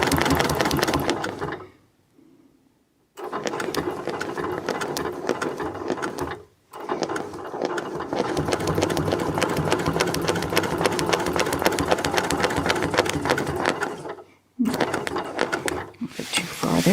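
Sewing machine quilting a spineless feather motif on a butterfly bed runner, a steady loud mechanical whir with rapid needle ticking, running in long stretches broken by brief pauses.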